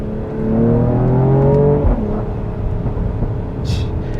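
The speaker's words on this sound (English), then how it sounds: "I will never get tired of hearing that exhaust, especially from a 3-liter." A 2022 Mercedes-AMG GLE 53 with a 3-liter engine accelerates in second gear, its exhaust rising in a loud, steady climbing drone before easing off into a lower rumble, with no talking over it.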